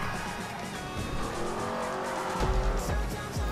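Muscle car engine roaring in GTA V during a street race, loud and continuous with rising revs and brief tire squeals near the end.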